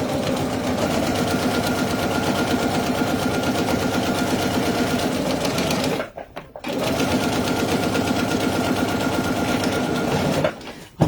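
A sewing machine fitted with an accessory foot stitches along fabric for a bag, giving a loud, close, steady mechanical whir that stops briefly twice before starting again.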